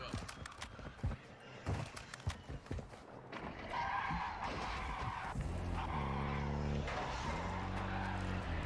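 A car in the video game Call of Duty Warzone is entered and driven off, with scattered clunks and footsteps giving way to a steady, loud engine drone that rises and shifts in pitch.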